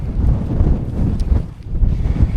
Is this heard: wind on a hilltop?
yes